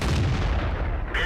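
A tank cannon fires in the video game World of Tanks with a loud, heavy boom that fills the whole moment and then rolls off into a rumbling tail.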